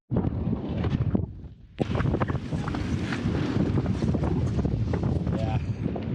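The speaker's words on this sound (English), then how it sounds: "it's super windy here. I think gusts up to 40 now" Strong, gusty wind at a harbour by the piers, roaring and buffeting close against the microphone, dropping briefly and then surging back. A person talks over the wind.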